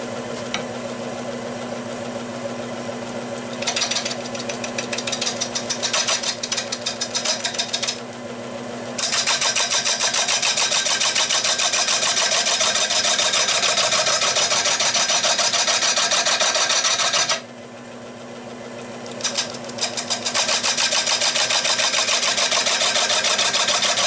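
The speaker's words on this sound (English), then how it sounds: "But I can go very lightly and try a little bit of shear scraping." Lathe tool shear scraping a turned catalpa wood bowl, a continuous loud hissing rasp that cuts out briefly twice, close and with no talk.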